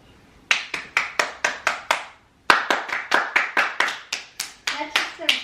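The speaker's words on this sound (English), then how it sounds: "That's just so good clapping." Several people at home in a homeschool rhythm game clap along together: a steady run of crisp, close claps, a short silent break, then a longer, even run of claps. Quiet speech may sit beneath.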